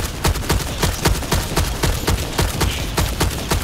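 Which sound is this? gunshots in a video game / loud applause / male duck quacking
gunshots in a video game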